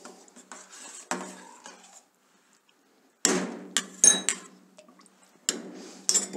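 A spoon stirs cold stock into mutton consommé in a metal pot, giving intermittent clinks and scrapes against the pot with a short quiet gap midway, close and fairly soft.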